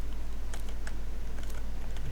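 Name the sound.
typing a command on a computer keyboard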